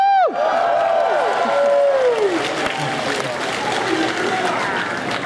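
Concert crowd at PAX East 2011 during a show, clapping and cheering after a song, starting as the last sung note fades and then settling into sustained applause.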